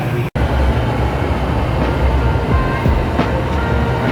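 An empty train pulling into a station platform near a university campus: loud, steady rumbling of wheels on rails with faint rhythmic clicks and a brief squeal, close to the listener.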